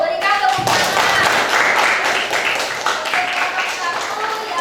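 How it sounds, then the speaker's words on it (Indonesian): Students applaud in a physics classroom to honour a group's lab presentation, with a loud burst of close, rapid hand clapping mixed with voices and cheering. "Berikan tepuk tangan."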